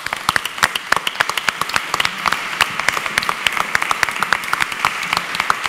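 An audience at a 2018 awards closing ceremony applauds steadily. Many overlapping claps form a dense, even patter that continues at moderate loudness throughout.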